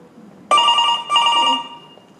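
A telephone bell rings once on a stage during a Marathi play, two quick bright bursts back to back, loud and close against a quiet background.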